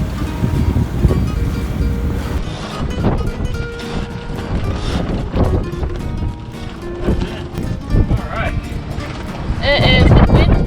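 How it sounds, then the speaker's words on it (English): Wind blows hard over a sailboat heading out in rough weather on the Strait of Juan de Fuca, a loud, continuous buffeting roar mixed with wave wash and hull noise, with voices talking over it. "It is windy."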